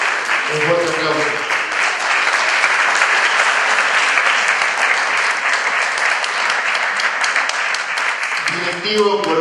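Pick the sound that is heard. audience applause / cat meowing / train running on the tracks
audience applause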